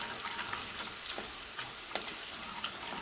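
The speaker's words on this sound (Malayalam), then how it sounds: "ഈ മുളക് പൊടി ഇതിനകത്ത് കിടന്നിട്ട് നന്നായിട്ട് മൊരിയട്ടെ." Chili powder fries in a pan over low heat for a spiced curry, giving a steady soft sizzle with faint crackles and a few light stirring scrapes, close by and alone.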